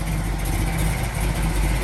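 A 1967 big block Camaro with a four-speed sits idling, its deep exhaust giving a steady, close, rumbling burble with an even low throb for a couple of seconds.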